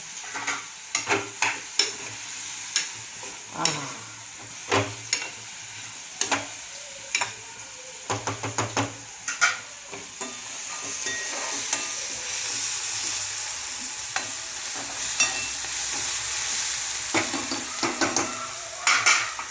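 Chana dal stirring and frying in a pan while cooking a meal to break a fast, with a steady sizzle under repeated scraping and clinking strokes of a spoon against the pan, close and fairly loud, no talking.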